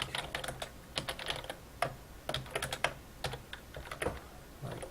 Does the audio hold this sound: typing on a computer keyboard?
yes